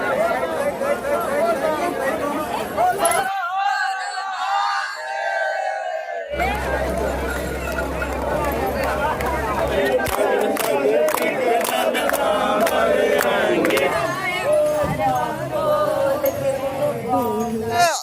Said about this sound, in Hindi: यहाँ सुल्तानगंज में उत्तर वाहिनी गंगा के तट पर आप देख रहे हैं हजारों श्रद्धालुओं की भीड़